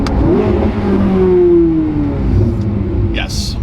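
A C8 Corvette Z06 engine revs hard close by, a loud rising and falling roar that climbs in pitch across the clip, with brief exclamations from a man near the end.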